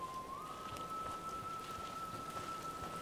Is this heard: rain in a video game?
yes